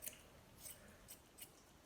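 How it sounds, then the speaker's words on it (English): Long straight grooming scissors trimming a golden retriever's fur around the feet, giving several quiet, crisp snips spaced at irregular intervals, close and faint, with no talking. "Take my long scissors, or my straight ones."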